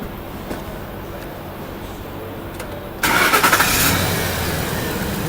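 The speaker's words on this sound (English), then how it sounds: "So I'm going to go ahead and start the car." A car engine cranks and catches at about the three-second mark after quiet, then settles into a steady, loud idle close by, during an HVAC system check.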